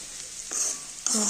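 Vegetarian fried rice ingredients fry in a wok, a short close sizzle with scraping stirs that builds louder toward the end, with no talk.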